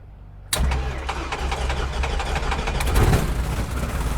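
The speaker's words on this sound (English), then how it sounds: "We started engines on props and then did a parade taxi and turnout." Propeller aircraft engines crank and catch on a flight line before a parade taxi for a formation proficiency review. A loud whirring roar starts abruptly and builds steadily as the engines spool up.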